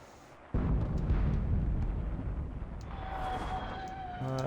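A grenade blast in the World War II shooter Enlisted: a sudden loud burst rolls into a long rumbling boom that lingers over the battlefield, with a faint whistling tone rising near the end.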